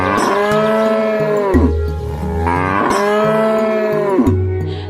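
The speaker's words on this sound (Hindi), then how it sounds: "गाय डर के मारे जोर जोर से रंभाने लगती है" A frightened cow moos loudly and close by, two long drawn-out lows that each slide downward at the end. Nothing else is heard around them.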